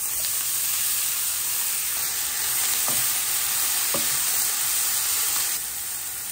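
Onion and jackfruit fry in a pan, a steady broadband sizzle running throughout with a few soft stirring clicks, close and fairly loud with no talking.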